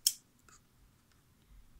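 A single sharp snip of scissors cutting paper opens, followed by a faint second cut and light handling rustle, in a quiet room.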